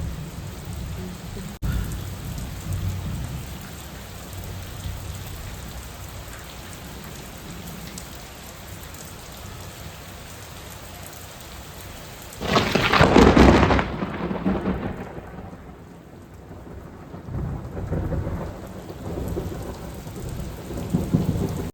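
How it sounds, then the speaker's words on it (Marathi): Heavy first monsoon rain pours steadily, broken midway by a loud, close crack of thunder from a nearby lightning strike; the downpour continues strongly afterward. "वीज पडलेली मला वाटतं कॅमेराने पण कॅप्चर केलं ते बहुतेक भयानक मोठा पाऊस आला आहे"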